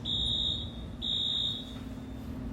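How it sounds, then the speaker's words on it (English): A fire alarm sounds indoors with a shrill, high electronic tone in two long blasts separated by a short gap, then fades, fairly faint and heard alone. "Shouldn't we wait for the fire alarm?"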